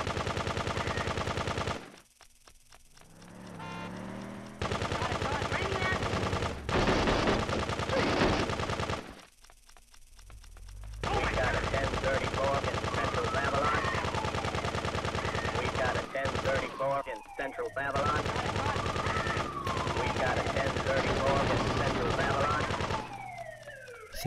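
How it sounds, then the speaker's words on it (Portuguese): Rapid machine gun bursts fire repeatedly in Grand Theft Auto 2 on PlayStation, loud and clipped, broken by short silent gaps, with a siren-like wail mixed in among the shooting. "Matar 20 pessoas com metralhadora."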